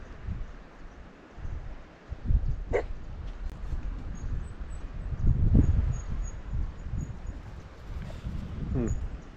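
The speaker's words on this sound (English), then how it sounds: "I think it's a friendly dog." A dog yips and barks a few times along a road, mixed with whimpering sounds, heard at moderate distance over outdoor background and some talking.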